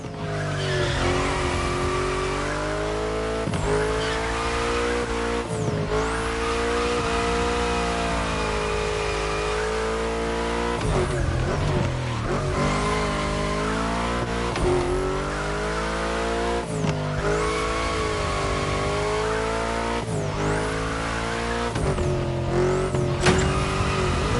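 Car engine revving and shifting through gears with occasional tire noise in The Crew Motorfest, a steady loud drone of harmonics that rises and drops repeatedly, with no talking.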